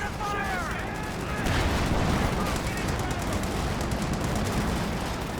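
Squads opening fire on buildings in Company of Heroes 2, a dense, continuous clatter of small-arms and machine-gun bursts with occasional heavier booms, steady and loud throughout.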